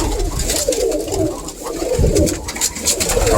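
Pigeons in a breeder's loft coo in low, soft, repeated murmurs over a constant rustling background, close by and continuous.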